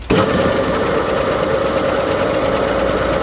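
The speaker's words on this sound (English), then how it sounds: "even with that rough block, it's still shaving a beautiful snow" Snowie 2015 block ice shaver running steadily as it shaves a rough block of ice, a loud, continuous motor drone with a constant grinding rasp from start to finish.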